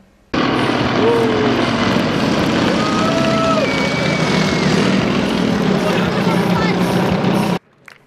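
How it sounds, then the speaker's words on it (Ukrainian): Aero club propeller planes perform aerobatics over a beach at a beach volleyball tournament in Yuzhne, producing a loud continuous engine drone with rising and falling pitch as they swoop overhead, steady throughout. "Літаки одеського аероклубу вирували прямо над побережною смугою."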